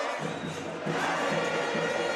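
Boxing arena crowd at a Golden Boy fight night in Mexico City, a dense roar of many voices that swells louder partway through and stays loud and continuous.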